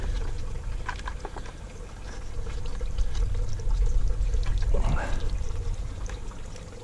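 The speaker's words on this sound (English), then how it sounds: "So there's some water coming out of there" Water pours and trickles out of a hydroponic Dutch bucket in a steady, close stream, with a brief splashy swell near the end.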